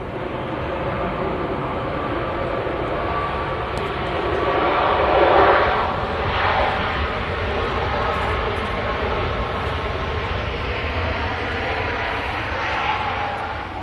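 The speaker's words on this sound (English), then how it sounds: "I just had Ryanair touchdown." A Ryanair jet touching down at Manchester Airport gives a steady, broad roar of engine and rushing air, heard from a distance and swelling slightly midway before holding level to the end.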